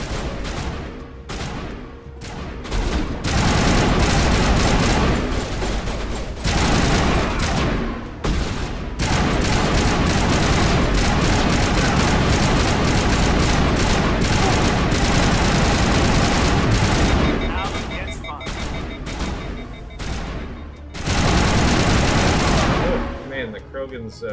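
Gunfire in the Mass Effect video game: loud, dense automatic bursts rattle almost continuously with a few short pauses, and a voice occasionally speaks beneath the shooting.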